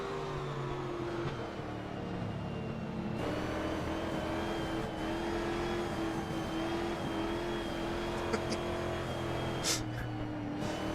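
A historic sportscar, racing a Porsche 904 online at Riverside, drones with a continuous engine tone that climbs and settles through gear changes. The pitch shifts near the three-second mark, and faint tire and mechanical whines run underneath.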